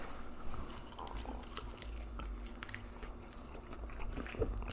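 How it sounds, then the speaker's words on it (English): Spicy chicken wings are bitten and chewed close to the mic, with soft wet chewing and crunching under quiet background noise and no talk. "let me take another bite"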